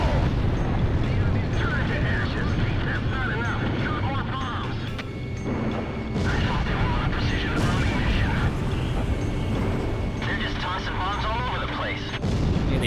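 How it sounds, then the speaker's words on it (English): Repeated heavy blasts boom as bombs hit enemy facilities in Ace Combat Zero, forming a dense, loud rumble of explosions throughout. A jet engine drones beneath them and a voice talks over parts of it. "That's what I'm doing by bombing these facilities."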